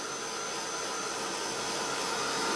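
A heat tool blowing steadily to dry metallic embossing paste on a mixed media art journal page, a close, continuous whooshing roar with a high whine that holds unbroken throughout.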